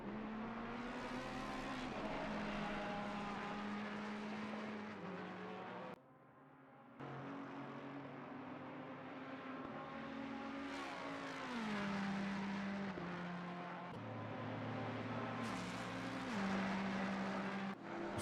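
A V8 race car engine roars in a racing game at the Barcelona circuit, a loud sustained note climbing and dropping through gear changes, cutting out briefly before returning, with no voices.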